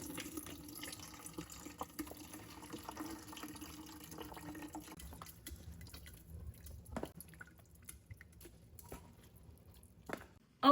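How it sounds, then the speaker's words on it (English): Pikliz pickling juice poured into a jar trickles and drips quietly and steadily, with a few louder splashes near the end. "First, I'm gonna pour all the juice in."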